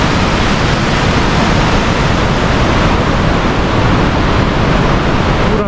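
Steady broadband rush of the Gori river flowing along a steep rocky mountain valley in the Johar Valley, a continuous close roar of running water filling the whole clip with no talk.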